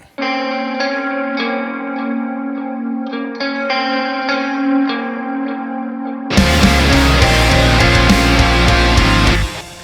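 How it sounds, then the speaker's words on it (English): A clean, shimmering stereo electric guitar melody with delay repeats, then at about six seconds thick, layered double-tracked distorted guitars crash in, loud and dense. "I've added a double track melody. And a stereo clean guitar with a delay."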